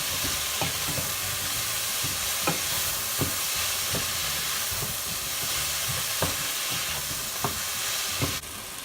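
Tomato masala gravy stirred in a pan with a steady bubbling hiss throughout and a series of sharp scraping taps from the spoon at irregular intervals, close and even.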